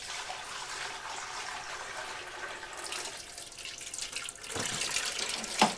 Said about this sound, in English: let's go ahead and pour in about